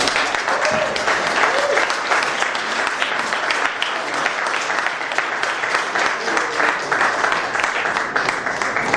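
Wedding reception guests applauding after a toast, a loud, dense, continuous wall of clapping from a large crowd lasting throughout, with faint voices mixed underneath.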